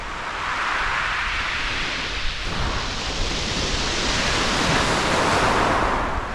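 Waves break and wash over the shingle at Chesil Beach near Ferrybridge in a light southwesterly breeze, making a loud, continuous roar of surf with a surge in the middle and no voices.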